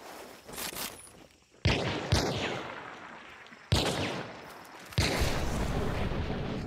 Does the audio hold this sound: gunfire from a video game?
yes